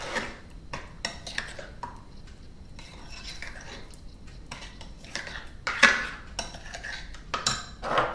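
Tzatziki stirred in a bowl with a metal utensil, giving a run of close scraping and clinking strokes in an irregular rhythm, with a few sharper knocks against the bowl near the end.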